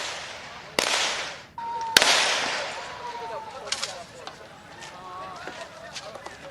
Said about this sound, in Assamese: এয়া হৈছে শূন্যলৈ গুলীচালনা কৰাৰ শব্দ